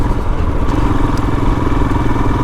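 Royal Enfield Himalayan motorcycle cruising on gravel at a steady pace, its engine droning constantly with a low rumble and faint clatter of loose stones under the tires throughout.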